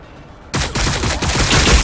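Battlefield gunfire in Warhammer 40K: Battlesector, a sudden loud burst of rapid automatic shots that keeps rattling on without a break after a quiet start.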